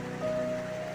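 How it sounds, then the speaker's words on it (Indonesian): Rain falls outside in the morning, a faint, even, continuous hiss heard from indoors, steady in the background with a thin hum present and no talk. "Ya, sampai jam sekarang juga sedang hujan di luar."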